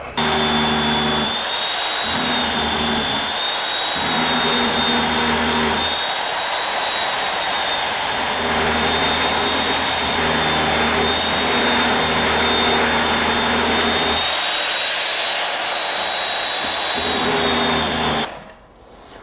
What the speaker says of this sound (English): I'm just going to clean that up with the sander